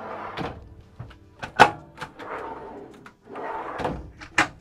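A cupboard holding a bin in the L-shaped kitchen of a Dethleffs Just Go T7055 EB motorhome on a Ford chassis, opened and shut with several close thumps and knocks.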